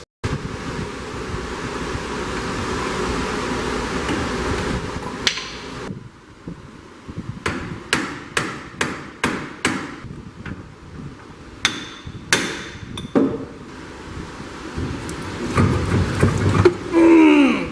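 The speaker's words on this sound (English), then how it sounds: "I'm going to start taking bolts off and hitting stuff with hammers" Sharp metallic hammer blows on the front-end parts of a Volkswagen being taken apart, about a dozen strikes in uneven bursts, loud and close, over steady wind noise.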